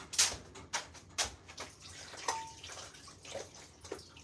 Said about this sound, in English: Rinse that salt off of the eggplant.